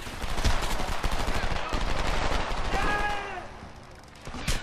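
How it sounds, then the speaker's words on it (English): Rapid bursts of automatic gunfire in the Homefront shooter game, dense crackling volleys with sharp individual shots, loud and continuous before easing off toward the end, plus a brief ringing tone midway. "More gunfire. I hear it."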